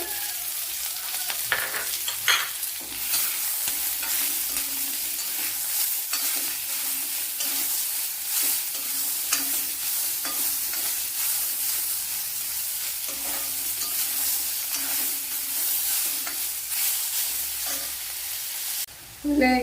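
A large chopped tomato fries in a pan for quail egg curry, a constant close sizzle with frequent stirring scrapes and clinks throughout, ending in a brief louder clatter.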